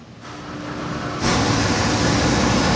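A 7.3L stack-injected Godzilla crate engine in an MK3 Cobra replica rises from a quieter idle into a loud, steady rev that holds strong and close to the end.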